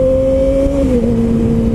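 Motorcycle engine revving loudly and steadily while riding, its tone holding then dropping slightly as the revs ease, close and alone with no talk.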